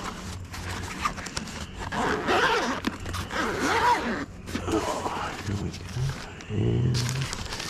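A zipper on a Holy Stone HS110G drone carrying case is pulled open in several short raspy strokes, close to the microphone, while someone talks over it.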